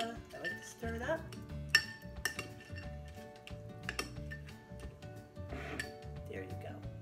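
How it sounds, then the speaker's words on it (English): A spoon stirs yogurt, fruit and granola in a bowl, giving repeated clinks and scrapes against the dish beneath a person talking. "I like to stir it up."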